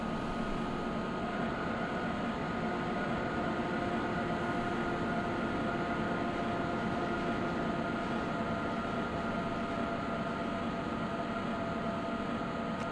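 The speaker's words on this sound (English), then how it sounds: "I bet that's the train we're waiting for." A train in Train Simulator Classic on a Leipzig to Dresden route draws near as a steady, moderately loud rolling rumble with a faint tonal whine, continuing evenly throughout without voices.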